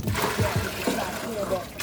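Water splashes and sloshes in short, uneven bursts close by, poured from a small bucket into a medium bucket to water cactus in Phoenix, Arizona summer heat.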